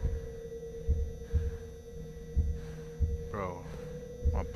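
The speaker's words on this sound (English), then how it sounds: "Player heart beating fast." A rhythmic player heartbeat thumps at a steady pace in the Backrooms VR horror game, low and soft over a constant electrical hum, with a brief warbling game sound partway through.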